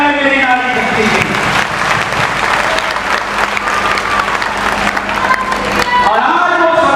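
Audience at a political rally applauding, with dense, loud, sustained clapping from a large crowd and scattered cheers, while a voice carries faintly through it.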